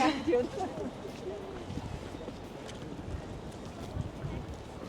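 Wind blowing outdoors in Oslo, a faint broadband rush and microphone buffeting, with a voice speaking briefly at the start.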